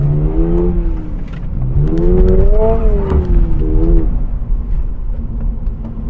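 A 2022 Subaru BRZ with automatic transmission accelerating hard in sport mode, engine note climbing through gears with clear rising sweeps and a shift dip, loud and close throughout.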